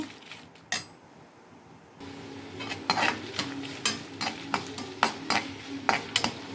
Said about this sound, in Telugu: ఎండుమిర్చి వేసేస్తున్నాను. జీలకర్ర కూడా వేసేసాను